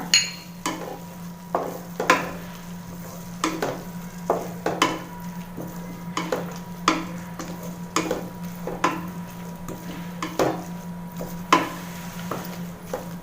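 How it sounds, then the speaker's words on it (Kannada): A spoon scrapes and stirs dantu soppu palya, an amaranth-greens stir-fry with grated coconut, in a pan, giving irregular close scraping strokes over a low steady hum with no voices. "ಒಂದು ಕಪ್ಪಷ್ಟು ಕಾಯಿ ತುರಿ ಸೇರಿಸ್ಕೊಳ್ತಾ ಇದ್ದೀನಿ ಚೆನ್ನಾಗಿ ಮಿಕ್ಸ್ ಮಾಡ್ಕೊಳ್ಳೋಣ"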